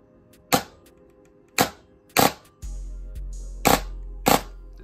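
A T238 mosfet-equipped airsoft gun fires as about five sharp, clicky snaps spaced under a second apart, heard up close, with a low motor whir starting partway through.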